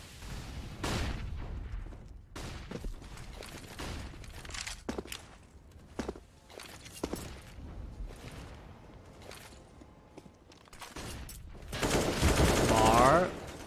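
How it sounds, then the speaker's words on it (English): Scattered gunfire bursts from a Counter-Strike match on the Overpass map, sharp shots spaced irregularly amid footsteps and game noise, with a louder dense flurry near the end. "Missed the first set of shots, but was able to readjust his burst in time."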